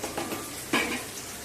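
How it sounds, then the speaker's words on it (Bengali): Chicken goes into a pan of half-fried onion, garlic and green chilli, a steady sizzle with a sudden louder burst and a metallic stir against the pan. "পেঁয়াজ রসুন লঙ্কা হাফ ফ্রাই হয়ে গেছে। এবার আমি চিকেন দিয়ে দেব।"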